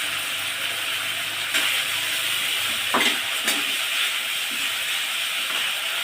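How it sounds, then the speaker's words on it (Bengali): Spice masala with dried red chilli sautés in a pan, giving a loud, steady hiss with a few faint scrapes of stirring and no talking. "দেখুন মশলাটা সুন্দর কষানো হয়ে আসছে"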